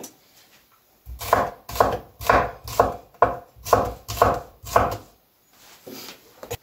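A knife chops an onion into strips on a board with about eight crisp, evenly spaced strokes, close and loud, with no talk.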